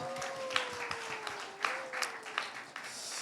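A church congregation at a young people's service claps to welcome a returning youth, giving soft, scattered applause at moderate distance over a sustained tone and faint talk.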